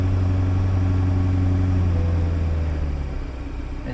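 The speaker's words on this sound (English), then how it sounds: "It idles great." A flooded twin-turbo V12 Bentley engine idles steadily, a loud, deep, even rumble with a low hum that eases slightly toward the end, no talk over it.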